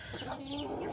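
Backyard chickens, grown chicks of an RIR breed flock, clucking steadily at close range for about a second, with no talking over them.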